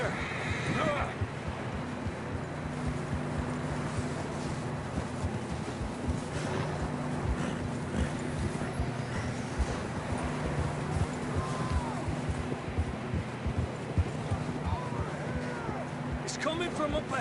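Horses in a video game neighing, with hooves clip-clopping along over ambient wind, while voices talk over much of the sound.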